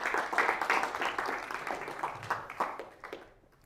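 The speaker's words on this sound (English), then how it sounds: "Thunderous applause breaks out." Light applause in a university lecture hall, a few scattered hand claps that start moderately and fade away within a few seconds.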